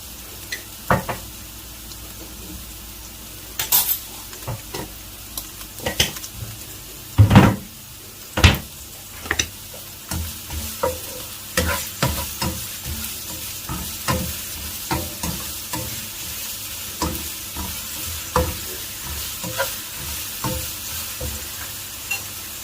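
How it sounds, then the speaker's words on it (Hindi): Carrots cooking with a tablespoon of sugar in a pan, caramelizing for an Afghani mutton pulao: a continuous sizzle punctuated by many sharp clacks and scrapes of a spatula against the pan, without speech. "अपने गाजरों को 3 से 4 मिनट तक पकाना है। गाजरें अच्छी तरह कैरामलाइज हो चुकी हैं"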